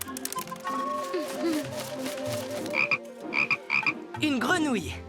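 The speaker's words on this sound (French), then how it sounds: "Une grenouille." A cartoon frog croaks in a few squelchy, warbling bursts with a bubbly quality, mixed with playful music and vocal sounds. Toward the end it gives a sliding croak.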